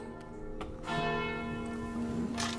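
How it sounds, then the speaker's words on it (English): Church bells tolling in Skyrim, a few resonant strikes ringing out with long sustained hum, fairly faint and alone. "The bells are tolling."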